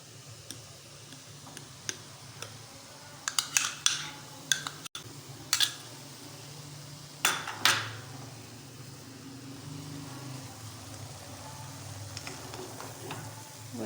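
Carrots and fresh cream being mixed in a pan for a sweet winter dessert, with a few sharp spoon scrapes and taps in the middle over a steady low background, fairly quiet with no talking.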